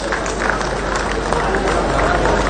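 An audience at a ceremony claps for students being honoured. The applause is a dense, steady wash of clapping, and a voice is faintly audible beneath it.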